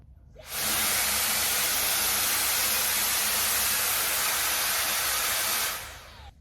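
A Dyson Airwrap Coanda 2X hair styler blows air in one steady, loud broadband whoosh that starts abruptly, holds for about five seconds and cuts off, heard up close with no talking.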